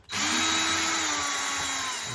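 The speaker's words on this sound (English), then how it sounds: "we're going to use the drill driver to pull these screws out" A cordless drill driver whirs steadily while backing drywall screws out of a kitchen GFCI outlet, one continuous close, loud run of the motor with no talk.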